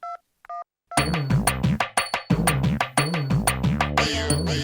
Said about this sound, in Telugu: సురేష్ కన్నా ఫోన్ చేస్తా.